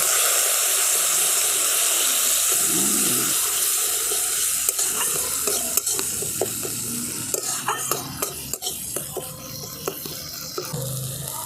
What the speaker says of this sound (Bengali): এরপর আমি সামান্য একটু জল দিয়ে আরেকটুখানি কষিয়ে নেবো